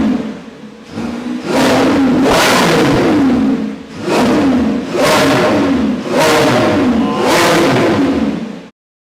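A Lamborghini Revuelto's engine revs hard in four loud, close bursts, each rising quickly to a full-throated roar, holding, then dropping back before the next, ending abruptly.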